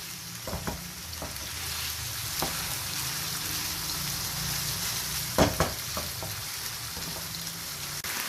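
Steady, quiet sizzling of liver (kaleji) frying in a pan with garlic and ginger, with occasional light scraping clicks of stirring.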